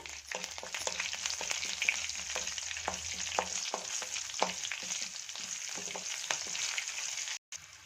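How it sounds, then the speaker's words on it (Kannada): Mustard seeds, cumin, curry leaves and green chilies fry in hot oil, giving a steady close sizzle broken by soft scraping stirs and small pops, with no talking. "ಹಾಗೆ ಕರಿಬೇವು ಸೊಪ್ಪು, ಹಾಗೆ ಒಂದು 3 ಹಸಿಮೆಣಸಿನಕಾಯಿ ಚೆನ್ನಾಗಿ ಫ್ರೈ ಮಾಡ್ಕೊಳ್ಳೋಣ"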